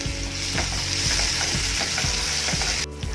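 Tomatoes frying in a hot pan with onion, cumin, cinnamon, cardamom and cloves, a steady close sizzle broken by repeated scraping stirs about every half second, with no talk.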